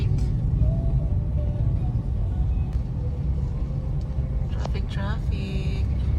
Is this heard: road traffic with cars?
yes